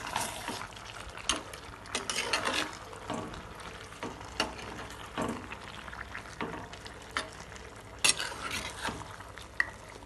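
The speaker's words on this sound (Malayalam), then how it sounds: "ഒന്ന് ഇളക്കിയിട്ട് കൊടുക്കാം കേട്ടോ" A spoon stirs squid roast in a pan with a little liquid released, giving repeated scraping and clacking strokes over a soft, steady sizzle, close and moderately loud with no talking.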